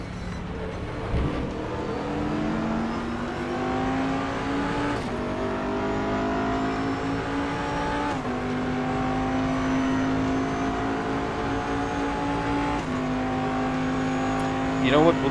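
Race car engines at Road America in the RaceRoom sim racing game, following AI cars through traffic, a loud continuous engine drone whose pitch climbs and drops at each gear change and lift, with a brief scrape near the end.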